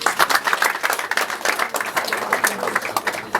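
A wedding crowd in Kigali applauding children, dense rapid clapping from many hands, loud and close, holding steady throughout.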